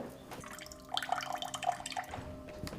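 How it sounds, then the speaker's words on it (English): Cold water runs from a kitchen faucet as a quiet, steady trickle, with brighter splashing and dripping spatters picking up partway through. "This is our cold water pressure in the kitchen."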